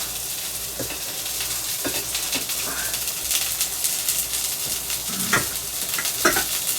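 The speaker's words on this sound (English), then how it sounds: "just quickly stir frying them if I can" Vegetables sizzle and crackle steadily while stir frying in a hot pan, with occasional scraping and stirring clatter over a constant frying hiss.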